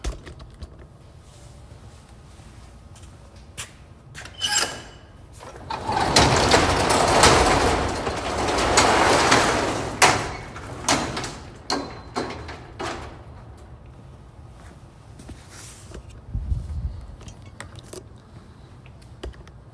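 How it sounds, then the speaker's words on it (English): A door being opened at a garden nursery greenhouse, with clicks and rattles of the latch and frame, then a longer stretch of sliding, scraping noise, followed by scattered knocks and handling sounds. "let me set this down a second while I get this door open"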